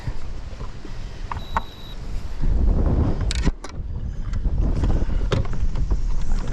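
Strong wind batters a fishing boat on the water, a loud continuous low roar with gusty surges and occasional sharp knocks and rattles over it.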